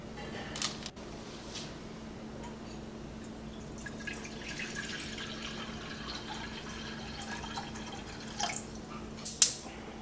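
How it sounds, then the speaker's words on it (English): Water is poured into a pan for cooking spaghetti, a soft, steady trickle over a quiet kitchen background, with a few light clicks and drips. "We're gonna need 2 cups of water."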